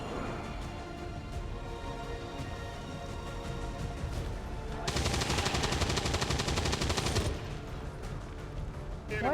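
Rapid automatic gunfire in the XCOM turn-based strategy game, with dense bursts running steadily and swelling into a louder sustained volley partway through, loud and close with no talk over it.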